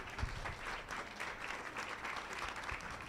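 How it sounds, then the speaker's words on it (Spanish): An audience at a conference claps steadily and fairly quietly for a few seconds, heard from a distance with no talking. "Otro aplauso para el maestro Jairo"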